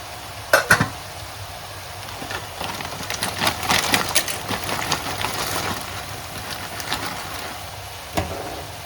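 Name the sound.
pasta put into boiling water and stirred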